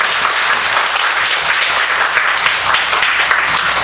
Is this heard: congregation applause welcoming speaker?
yes